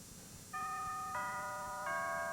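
A doorbell chimes three times in a soap-opera home scene, clear sustained ringing tones stepping in after a quiet room hush, fairly soft and with no talk.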